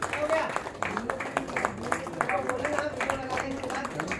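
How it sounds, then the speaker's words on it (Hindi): Applause from an audience at a Women's Day charity foundation event, a steady run of hand claps close by, mixed with voices speaking throughout. "तालियां रुकनी नहीं चाहिए, तालियां बजाते रहे।"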